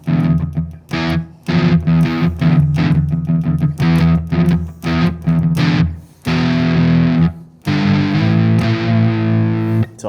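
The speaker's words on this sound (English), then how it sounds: "You can even get some metal sounds like this one here." Metal tone from an electric guitar through a Fender Mustang Micro Plus headphone amp, heavily distorted, loud and continuous, with chugging chords and riffs broken by short gaps.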